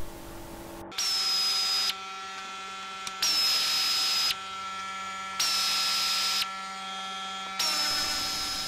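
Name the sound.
removing Torx screws from a car bumper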